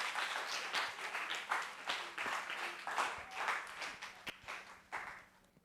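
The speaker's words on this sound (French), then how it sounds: "Sous vos applaudissements, s'il vous plaît." Audience clapping for a student singer opening a school journalism festival broadcast, moderate applause in uneven bursts that gradually thins out toward the end.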